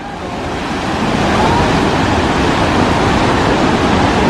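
Water rushes steadily under pressure, a loud, continuous broadband roar with no pauses, close by.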